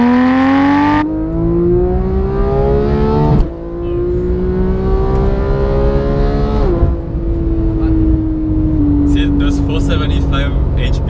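A Porsche GT3 engine revs hard toward its 9,000 RPM limit through several rising pulls, each ending in a brief drop at a shift. It sounds loud and close, a smooth high wail that climbs steadily, with wind noise and occasional faint talk.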